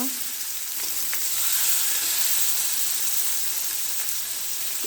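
Bata fish pieces sizzle steadily in hot oil on a tawa, a dense continuous crackle with small pops, close and fairly loud with no voices.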